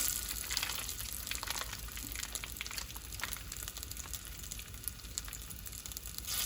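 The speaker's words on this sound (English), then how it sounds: "So here I squeeze out some paste in our hot oil, about approximately 2 tablespoons." Panang curry paste sizzles and crackles steadily in hot oil in a pan, a dense, even frying hiss that carries on throughout.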